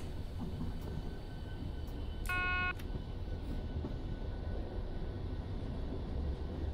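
A regional train in Train Simulator 2 rumbles steadily as it pulls away, a continuous low rolling drone with a brief tonal chime partway through, fairly loud and without speech.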